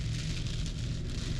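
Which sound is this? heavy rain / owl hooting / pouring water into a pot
heavy rain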